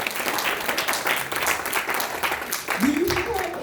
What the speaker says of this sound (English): Give another round of applause to Miss Hattie.